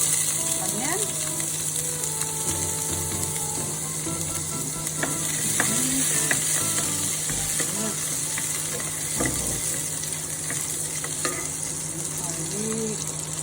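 Onion frying in a little vegetable oil for homemade tteokbokki gives a steady, close sizzle for the whole stretch, with occasional scrapes and clicks as it is stirred.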